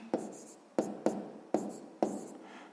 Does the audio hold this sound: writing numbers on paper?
yes